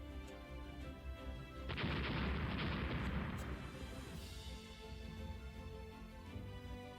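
A torpedo strikes a warship in the naval strategy game Rule The Waves, erupting into one loud, roaring explosion that swells suddenly and then rumbles and fades over several seconds against a steady low game hum.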